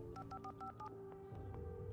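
Telephone keypad dialing in the video game Alan Wake Remastered: a quick run of about seven electronic DTMF tones in steady rhythm, then a ring tone over low ambient hum, no talk.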